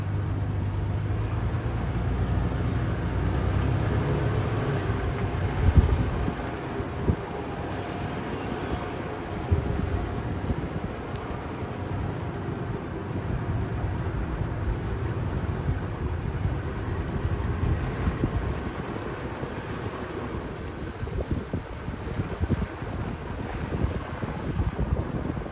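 A 2021 Toyota 4Runner crawls across soft sand in four-wheel low at Sand Hallow State Park, Utah, its steady low engine drone mixed with heavy wind buffeting and rumble throughout, with no talk.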